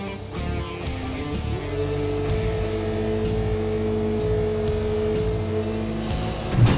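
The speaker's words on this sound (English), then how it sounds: "I gotta hand it to Dale, these skid steers are a little touchy." A skid steer loader's engine runs steadily while the machine is driven, a low droning hum with a sustained higher whine, heard close and without talk.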